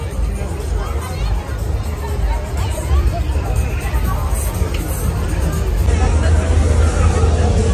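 Dense crowd hubbub and babble fill the Lautrer Mai Kerwe fun fair in Germany, a steady, loud wash of many voices with rumbling low background noise throughout.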